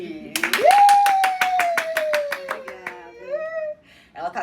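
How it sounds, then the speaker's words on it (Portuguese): An audience welcomes a speaker with rhythmic, evenly spaced clapping, while a loud voice holds a long, drawn-out call over the first few seconds before the claps thin out. "Recebam com uma salva de palmas Mariane Rodrigues!"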